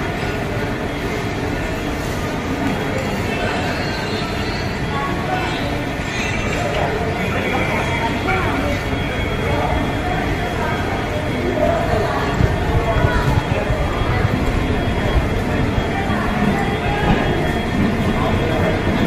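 Busy night ambience at CSMT railway station in Mumbai with local trains standing at the platforms, a dense steady rumble of rail noise and crowd chatter, with people talking nearby.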